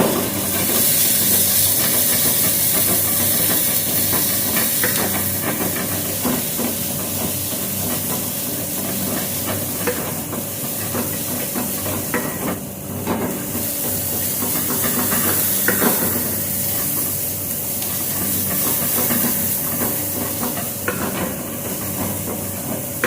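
Masala roasting until brown in a pan for matar paneer gives a steady, close hiss and sizzle that runs without a break, with faint spatters and a low background hum.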